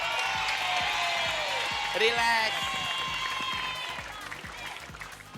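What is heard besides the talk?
studio audience applause on TV show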